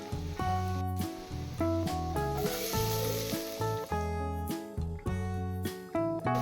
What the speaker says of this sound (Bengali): এখানে আমি পেঁয়াজ কুচি ব্রাউন করে ভেজে নেব।